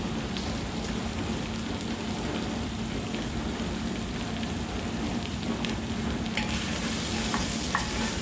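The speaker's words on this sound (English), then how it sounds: "now we're going to add our shells" Shells searing in a hot pan, a dense continuous sizzle and hiss like heavy rain, steady and close throughout with no speech.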